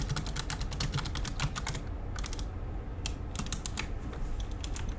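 Rapid, close clatter of keys as code is typed on a computer keyboard for a Godot game project, bursts of keystrokes with a brief pause midway.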